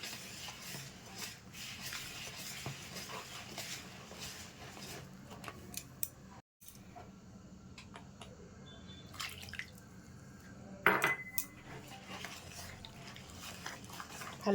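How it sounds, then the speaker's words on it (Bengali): Malpua batter being stirred and whisked in a bowl, with milk worked in. There are wet scraping and clicking strokes throughout, irregular and fairly close, with a short break midway and a sharper clatter near the end. "ভালো করে মিশিয়ে নিচ্ছি।"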